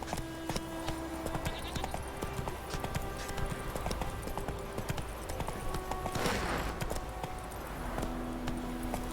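Roach, Geralt's horse in The Witcher 3, clip-clops steadily along in a game scene, hoof falls rapid and even under ambient outdoor sound with a brief swell of noise partway through.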